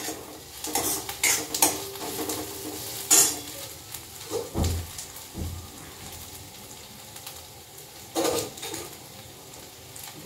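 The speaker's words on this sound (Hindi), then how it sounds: "बटर में मैंने थोड़ा सा प्याज जो है वो टॉस किया है और इसको इसमें डाल दूंगी" Onion and boiled macaroni tossed in butter in a pan, with intermittent scraping and stirring clatter of a utensil against the pan over a faint sizzle, close by with no talking.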